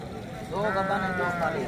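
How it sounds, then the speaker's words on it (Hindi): Sheep bleat at a livestock market in Pakistan, a loud wavering bleat rising and lingering nearby, with background noise from the market. "अच्छा ये टोटल आपकी भेड़ें हैं सारी?"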